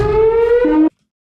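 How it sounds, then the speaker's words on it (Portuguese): A shark attack warning siren at a beach wails loudly alone, a strong steady tone sliding slightly upward before dropping to a lower pitch and cutting off abruptly. "se você estiver na praia curtindo, escutou essa sirene, saiu o mais rápido possível da água"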